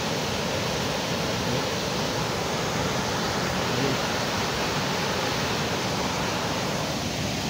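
Moving water flowing below a rocky spot, a continuous loud hiss of rushing water with no breaks or voices.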